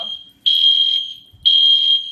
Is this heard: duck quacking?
no